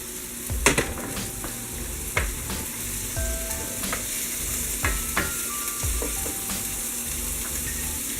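Carrots and onions being stirred in a pan on low heat for a coconut curry fish stew: a steady soft sizzle broken by repeated scraping strokes of the spoon, close and moderately loud, with no talking.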